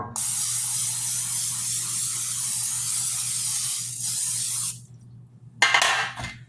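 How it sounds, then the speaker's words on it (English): Cooking spray hissing steadily from an aerosol can onto a baking pan for biscuits: a close, loud spray lasting several seconds, stopping briefly, then a short rattle and clatter of the can and pan afterward. "And I'm going to go ahead and grease my pan."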